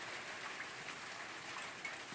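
Steady, faint rain falls without pause as an even hiss of drops spattering on surfaces, with no voices over it.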